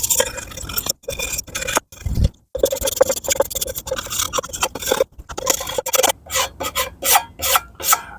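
An old cast iron skillet is scrubbed with 0000 steel wool, giving loud, rhythmic rasping strokes close by. Short pauses split the scraping into bursts that speed up toward the end.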